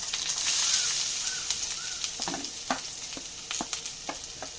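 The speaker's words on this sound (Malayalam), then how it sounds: "ഇനി നല്ലപോലെ നമുക്കൊന്ന് അത് റോസ്റ്റ് ചെയ്തെടുക്കാം" Coconut chammanthi roasting in a pan gives a steady, close frying hiss, broken by several sharp scraping stirs and small crackles; no voices.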